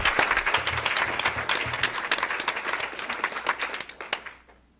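An audience applauds at a university event honoring the Olive Tree Initiative, dense steady clapping from a room full of people that fades out at the end.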